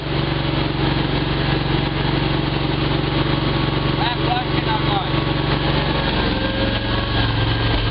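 The engine of a Toro Dingo 950 compact utility loader runs steadily and loudly throughout with a constant droning hum and faint voices underneath.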